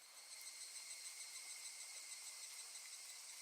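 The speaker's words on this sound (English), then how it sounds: "Do you hear the cicadas already?" Cicadas in the Higurashi visual novel game, a faint, steady high-pitched buzzing drone that holds evenly throughout with no talking over it.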